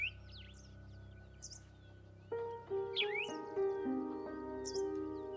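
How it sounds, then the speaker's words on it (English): Scattered bird chirps and short tweeting calls ring out at dawn, some near and some farther off, over a steady low background hum. "Males sing from tall branches to warn others to stay away from their area."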